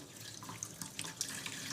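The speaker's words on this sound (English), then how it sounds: "Then we have to increase the velocity of the water stream." Water stream running from a tap in a Reynolds number experiment, a steady faint splashing hiss with small irregular spatters, no voices.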